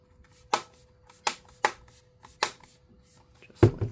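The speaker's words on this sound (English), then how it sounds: "Click it all back into place." Bottom panel of an HP Spectre x360 13t-ap000 convertible laptop pressed back into place, giving five sharp, close plastic clicks at irregular intervals, the last one a little louder, in an otherwise quiet room.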